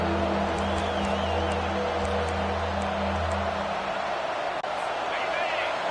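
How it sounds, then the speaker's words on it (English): A stadium crowd in the NCAA 25 college football video game roars in a continuous, loud wash of cheering, with a brief dip near the end. "Listen to this crowd just shaking the girders of this place"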